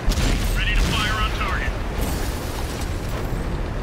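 A Type 4 Heavy tank's main gun firing in World of Tanks, a loud blast at the start followed by a rumbling tail, with someone talking over it.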